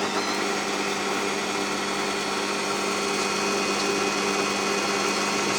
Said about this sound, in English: On to drill again.